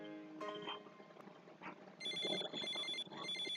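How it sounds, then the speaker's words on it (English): A cell phone ringtone rings in repeated bright electronic bursts, loud and close, with a softer earlier tone before the main ringing starts. "Ugh, what's that sound? It's one of your cell phones."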